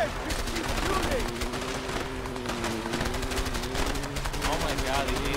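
Sustained automatic gunfire rattles nonstop during a vehicle chase in the co-op video game A Way Out, loud and dense with engine drone beneath and no spoken words.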